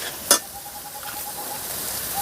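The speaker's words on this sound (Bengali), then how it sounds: "এবার আমি আলুগুলোকে ভালো করে কষে নিচ্ছি" Potatoes frying with spices in a pan for a vegetarian masala paneer, a soft steady sizzle opening with one sharp clatter of the stirring spoon, brief and without speech.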